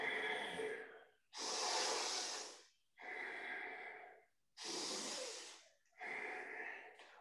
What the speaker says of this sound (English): then you do very rapid Bhastrika Pranayama